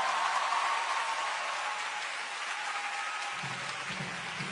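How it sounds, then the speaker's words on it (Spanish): Crowd applause at a rock concert, a steady wash of many hands clapping at moderate distance, continuous and fairly even throughout with a low hum joining near the end. "un fuerte aplauso para toda la banda"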